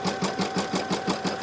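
An embroidery machine, run at reduced speed with the fabric guided by hand, stitches the final outline of a turkey coaster in a steady, fast mechanical rhythm, close and clear, with no voices.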